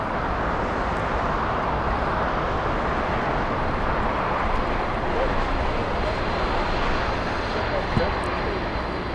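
A Boeing 747 departing LAX for Lima gives a steady, loud, broad engine roar that holds throughout.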